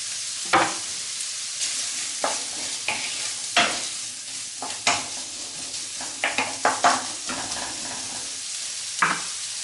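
Onion sizzling with bacon in a pot, a steady fry hiss broken by several sharp scraping stirs of a utensil against the metal, loud and close with no voices.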